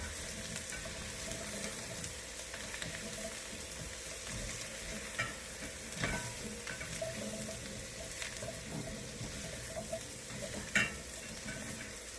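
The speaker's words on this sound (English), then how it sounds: "Add the sweet potatoes to the pot and stir to coat the spices." Sweet potatoes are stirred and tossed in a pot with spices for a ginger coconut stew, giving a continuous soft sizzle and scraping with occasional sharper clinks of the spoon against the pot.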